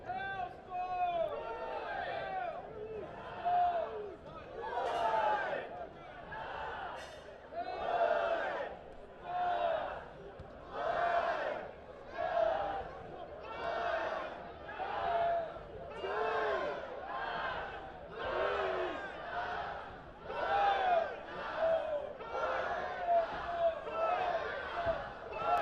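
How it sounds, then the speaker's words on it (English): A soccer crowd at a One Knoxville SC match against Northern Colorado Hailstorm FC cheers and shouts in repeated rhythmic bursts, with a mass of voices rising and falling throughout. "Crowd getting into it."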